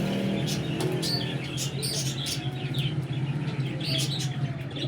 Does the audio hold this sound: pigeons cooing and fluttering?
yes